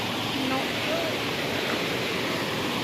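A large waterfall roars in a steady, dense rush of falling water heard close by, unbroken for the whole stretch, with faint voices under the noise.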